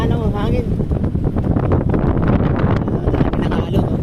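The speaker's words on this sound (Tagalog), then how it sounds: "Aba, malakas ang hangin." Strong wind roars and buffets the microphone at sea, a loud, continuous rumble with rustling gusts, while people talk over it.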